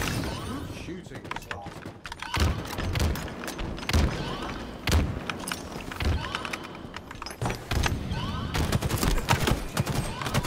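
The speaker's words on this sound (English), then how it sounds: "Shooting." Video game gunfire in a team match, a stream of sharp shots and bursts scattered through busy game noise, fairly close and loud, with speech-like chatter mixed in.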